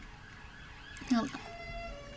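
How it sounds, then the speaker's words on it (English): A wailing emergency siren sweeps up and down in the distance, briefly swelling louder, while a voice speaks quietly over it. "I apologize for the sirens."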